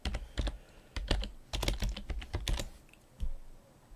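Quick, clustered keystrokes tap on a computer keyboard close to the mic, in irregular bursts with short pauses between them.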